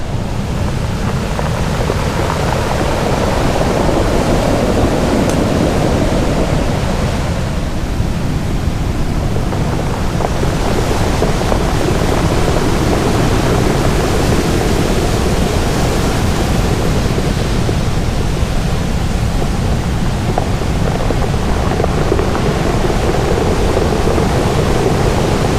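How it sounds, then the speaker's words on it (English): Crashing surf and wind on a rocky beach in South West Western Australia, waves rolling stones back as they pull out; a loud, continuous roar of water and gusts with no voices. "these rocks out here get moved by the waves as they get pushed back out again"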